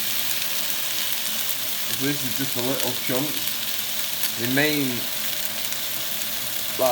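Loud, steady sizzling of chicken pieces frying in a hot pan, with a person talking over the crackle.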